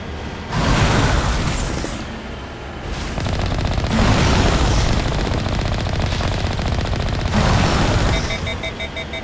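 Heavy continuous automatic gunfire rattles through a firefight in Mass Effect Legendary Edition, aimed at enemy tentacles, sustained and loud with brief swells over the whole stretch.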